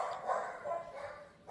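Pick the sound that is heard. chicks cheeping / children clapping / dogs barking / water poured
dogs barking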